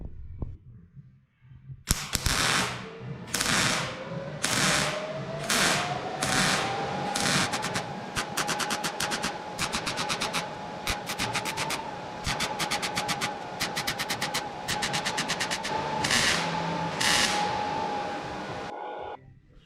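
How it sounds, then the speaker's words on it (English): Sheet metal for a custom hood molding being welded on a bench, heard as a run of sharp, evenly spaced crackling bursts over a steady hum that slowly rises in pitch, close and loud throughout. "Now I'm going to pull it off and finish welding it on the bench."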